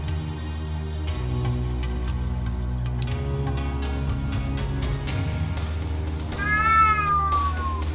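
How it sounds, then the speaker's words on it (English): A cat lets out a single meow that slides in pitch near the end, over a constant low hum and scattered soft clicks and drips. "The kitty cat wants in on this."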